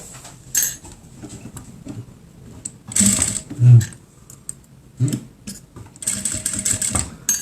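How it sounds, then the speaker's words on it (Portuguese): A sewing machine stitches elastic onto a cloth face mask, with short bursts of rapid mechanical clatter separated by quiet pauses and occasional handling thumps, close by. "faz uma costura plana de um pé de máquina aqui"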